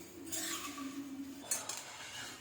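Puffed rice chivda with turmeric being stirred in a pan, a spoon scraping and clinking against the metal in a steady rhythm, close and fairly quiet, with a brief louder scrape partway through.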